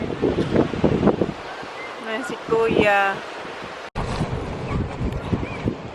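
Gusty wind rushes steadily at the shore, with surf noise mixed in beneath people chatting nearby.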